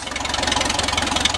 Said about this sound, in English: Medium-sized farm tractor. I'm 5'6" or 5'7", and the tires are up to my chest. Running like a champ.